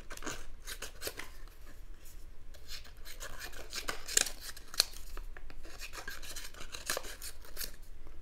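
Roxon KS2E multi-tool scissors snip through an index card in a steady series of crisp, close cuts with light rubbing between strokes, and no voices.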